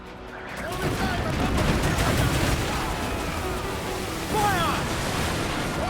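Ship cannons firing in a naval battle in Assassin's Creed Black Flag, a rolling volley of booms over ocean waves, swelling again near the end, with shouted voices mixed in.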